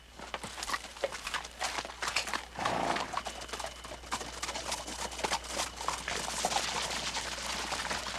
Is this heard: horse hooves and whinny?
yes